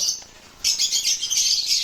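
An opaline yellow bull hen, a pet bird for sale, gives harsh squawking calls that rise sharply after a quiet start and carry on steadily, close and fairly loud.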